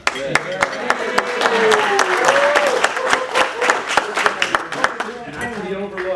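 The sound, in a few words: applause at a Rotary Club meeting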